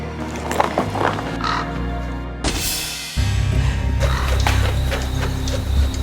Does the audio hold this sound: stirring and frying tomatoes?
no